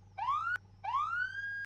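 A sheriff's patrol car siren in manual mode gives two rising whoops, each climbing in pitch and cutting off sharply, with a low steady engine hum underneath.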